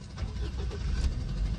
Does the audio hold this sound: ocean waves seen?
no